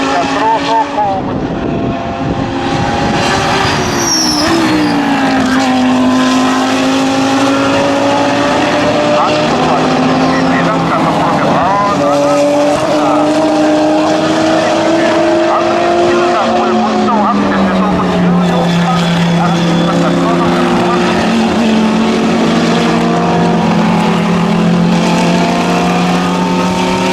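GT3 and GT4 race cars, including a Lamborghini Huracán GT3 and a Mercedes-AMG GT4, roar past at Fuji Speedway, with loud engine notes sweeping and shifting pitch throughout while a circuit announcer talks over them.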